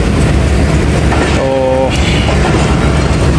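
Awam Express passenger train rolling along the rails, a loud steady rumble and rattle from inside the carriage with a brief tonal horn-like blast partway through, and a voice speaking briefly.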